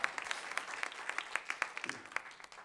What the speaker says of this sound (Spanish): Denle un aplauso fuerte al Rey de Reyes y Señor de Señores.